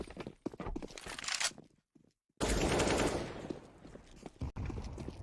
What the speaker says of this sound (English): that's an early kill from Hobbit up against the Pistols